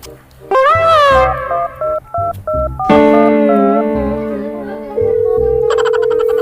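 A mobile phone being dialed gives a loud run of electronic keypad tones: short beeps stepping between pitches, then a longer sustained tone and a final higher, buzzier tone, with no talking.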